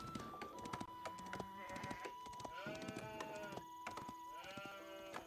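Sheep in the Age of Empires 4 video game bleat repeatedly in wavering calls, several overlapping over a steady backdrop of game sounds, with no talk.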